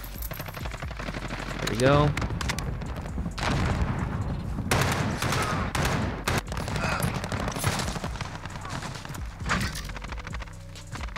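Rapid bursts of G36C rifle fire in the shooter game Modern Warfare, with repeated loud shots over several seconds, game sound effects and a brief spoken comment in between.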